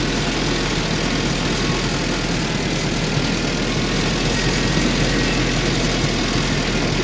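A restored 1920 Allis Chalmers 6-12 antique tractor engine runs steadily nearby, a loud, constant low rumble and chug with no break and no talking.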